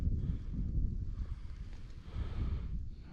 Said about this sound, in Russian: Ветер же не меняется.